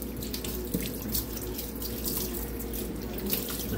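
Tap water runs steadily into a sink, rinsing soap off plastic parts, a continuous close splashing stream with no talk.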